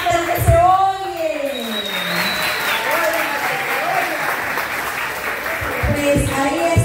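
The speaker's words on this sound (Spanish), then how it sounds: "Y un aplauso a la futura mamá," Applause for the expectant mother at a baby shower, a steady crowd clapping throughout, with voices calling and talking over it near the start and end.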